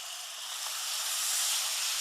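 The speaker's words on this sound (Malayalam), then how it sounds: "മുക്കാൽ കപ്പ് വിന്നാഗിരി ഉണ്ട് അതൊന്ന് ഒഴിച്ചു കൊടുക്കാം" Vinegar poured into a hot pan for lemon pickle, giving a loud, steady hiss and sizzle that swells slightly as it goes on.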